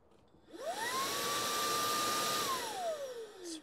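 Makita ADSA01 cordless dust blower, previously used on a bandsaw, spins up to a loud steady whirring whine close by, holds for a couple of seconds, then winds down as it shuts off.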